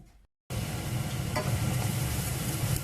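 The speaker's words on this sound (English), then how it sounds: "First I'm going to fry my onion." After a brief silence, a steady sizzle of onion frying in a hot pan starts and continues, with a faint scrape partway through.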